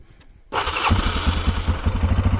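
A Yamaha Grizzly 450 ATV engine cranks and catches after a short quiet moment, then settles into a loud, steady, close-up idle with a regular low throb.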